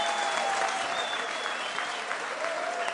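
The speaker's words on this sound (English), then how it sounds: "please give both fighters a massive round of applause" A crowd at a boxing event claps for both fighters after the bout, giving dense, even applause that holds steady throughout.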